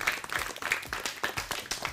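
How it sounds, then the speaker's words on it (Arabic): Studio audience on a children's show claps in a short burst of brisk, uneven clapping, close and lively throughout. "صفقوا حق الصور"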